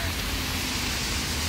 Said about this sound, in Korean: 비가 이렇게까지 올 일이야?